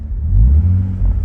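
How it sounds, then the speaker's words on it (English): A 1996 Nissan Skyline R33 engine is given gas, a deep, steady low rumble swelling briefly and holding near idle revs, close by with no talk. "I'm gonna give it some gas here, and then I'll hold it at 2 grand and 3 grand"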